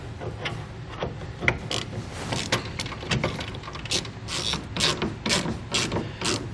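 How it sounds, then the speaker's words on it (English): An Allen key tightens a bolt on a Thule ladder rack C-clamp on a 2020 Chevrolet Silverado 1500, making a quick series of close metallic ratcheting clicks and scrapes in an uneven rhythm, with no talk. "then we can simply tighten down our Allen bolt here"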